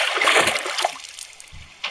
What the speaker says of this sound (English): Sir, did you hear that splash?